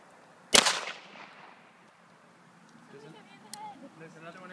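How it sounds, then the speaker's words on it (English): A handgun fires once at a police gun range, a sharp, loud crack with a short decaying echo. Quiet talk and faint range noise follow, along with a small distant pop. "Okay, point it and fire again."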